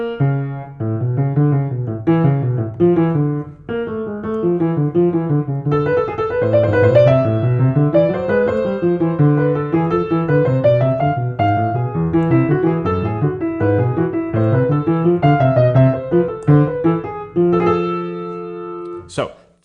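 A keyboard plays Bach's canon at the twelfth from The Art of Fugue, two contrapuntal lines weaving in steady, flowing notes for about twenty seconds and closing on a sustained chord, clear and alone.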